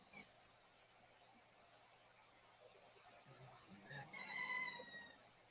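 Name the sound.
roosters crowing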